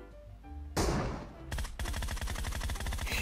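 Bursts of rapid automatic gunfire from a PUBG Mobile match, loud and close, starting with a sharp crack and then a sustained rattling volley with no talking.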